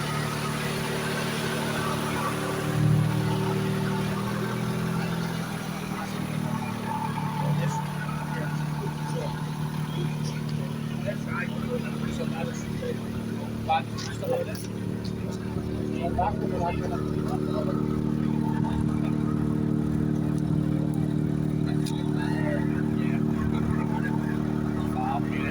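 A car engine idles steadily at close range with a low, even rumble and a few throttle changes, while people talk over it.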